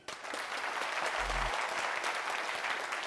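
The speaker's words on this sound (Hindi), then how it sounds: "तो आप सब लोग अपने लिए जोरदार तालियां।" An audience at a Hindi motivational seminar breaks into applause after a brief quiet moment, giving a steady, fairly faint wash of many hands clapping, with a short low thump partway through.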